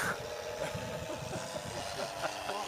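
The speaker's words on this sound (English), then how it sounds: "On this one, there's six different plane sounds." Engine noise from an onboard sound system in an RC plane hums steadily like a droning motor, its pitch wavering slightly as it rises and falls, with faint background noise throughout.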